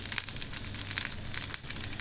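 Mustard seeds sizzle and crackle in hot oil along with garlic and green chilies, a close, steady frying hiss dotted with quick pops.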